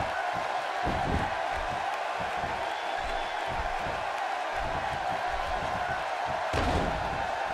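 A wrestling arena crowd cheers and roars in a steady, dense wall of noise, with sharp slams and thuds breaking through, including a loud one near the end.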